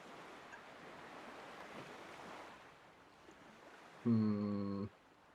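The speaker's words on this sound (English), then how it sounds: "the sound of waves hitting the coast just relaxed me" Waves washing against a coastline in the Fate/Grand Order game, a soft continuous wash rising and falling over a few seconds. Near the end a louder, brighter tonal game sound briefly cuts in.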